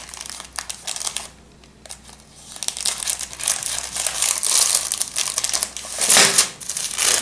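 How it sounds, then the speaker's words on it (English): A plastic package of piping bags is cut open with scissors, giving steady close crinkling and crumpling of thin plastic with a brief quieter pause, and no voices. "you just have to open it with scissors"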